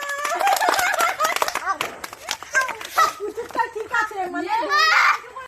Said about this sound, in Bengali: এই হাততালি দাও, হাততালি দাও